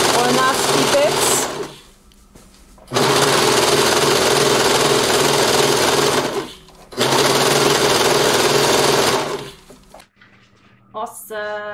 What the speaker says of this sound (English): So now I'm gonna quickly overlock it